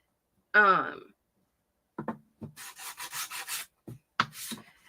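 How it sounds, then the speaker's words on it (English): Wood coated in chalk paint is sanded by hand in a quick run of short, rasping strokes, preceded by a brief voice and a few light knocks. "you could easily sand it after, and it kind of just helps even out the paint"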